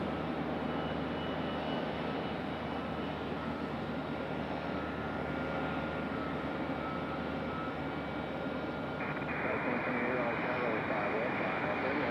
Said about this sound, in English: I think this is an A321. It's hard to tell from such a distance.